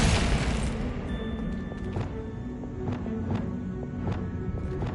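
An ice spell, Glacius, cast in Hogwarts Legacy, a booming burst that fades into a low rumble and then a string of sharp crackling impacts, heard alone without talk.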